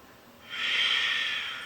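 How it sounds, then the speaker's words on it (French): One slow, deep breath during a yoga session. After a quiet moment, a soft, breathy rush of air rises and holds steady, then fades gently. It is heard alone in a quiet room. "Dernière fois, inspire."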